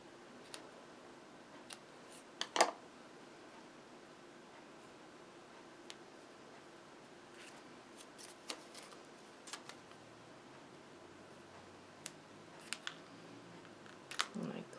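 Scissors trimming paper ribbon tails on a handmade card, a few faint crisp snips scattered over a quiet background, with one louder cluster of cuts early on.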